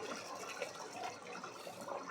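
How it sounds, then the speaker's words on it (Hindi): Hot water poured into chicken curry cooking in a pot, a steady soft rushing and bubbling wash of liquid, faint and continuous with no talking. "अब इसको हम गर्म पानी डालेंगे इसमें"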